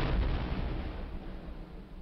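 An artillery cannon fires in the Civil War strategy game Battleground: Antietam, a single deep boom at the start that decays into a fading low rumble.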